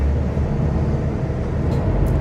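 A pre-facelift Mercedes-Benz Citaro G articulated bus in Ljubljana gives a steady low engine rumble from inside, with faint rattling throughout a short continuous stretch.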